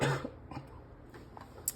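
A person gives a single close, fairly loud cough, followed by quiet room tone with faint breaths.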